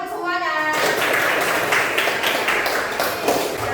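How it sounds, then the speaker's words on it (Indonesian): A classroom of children claps their hands together in loud, dense applause that lasts about three seconds, following a brief tonal sound at the start. "tepuk tangan untuk semuanya"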